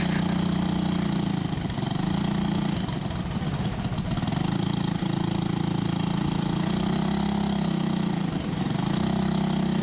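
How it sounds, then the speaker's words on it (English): A pro kart engine runs steadily after starting, a loud close buzzing drone with a slightly wavering pitch sustained throughout, no speech. "I can start my own motor now"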